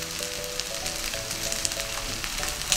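A Korean chijimi pancake fries in sesame and salad oil, giving a close, continuous crackling sizzle with small popping bursts that swell near the end; no talk.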